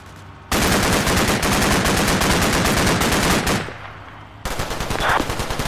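Machine guns on APCs lay down cover fire in the Cold War video game Combat Mission Cold War. Long, loud, rapid bursts of evenly spaced shots are broken by one short lull before firing resumes.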